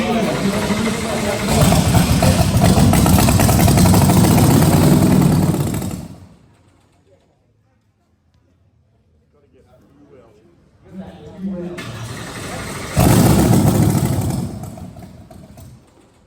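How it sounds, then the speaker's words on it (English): A 1999 rear-engine dragster at a drag-racing event runs with a loud, rough engine roar, drops to near silence for several seconds, then fires back up loudly. A person talks over parts of it. "Here with the rear engine dragster"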